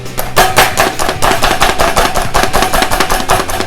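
Small hand-operated food chopper working through garlic, giving a fast, steady run of sharp, close chopping clacks that repeats evenly throughout with no talking.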